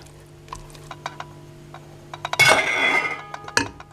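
Eggs with shredded cheese and pepper being stirred in a bowl, a series of light clinks and taps of utensil against the bowl followed by a brief louder burst of whisking and scraping, close and alone.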